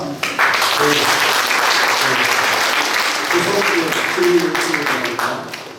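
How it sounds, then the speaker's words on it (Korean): An audience at a founders' meeting for an Australian mission history hall in Jinju breaks into steady, sustained applause, close and even, with a few voices underneath. "아마 이 박수는 열심히 앞으로 봉사하고 주시는 그런 박수인 줄 압니다"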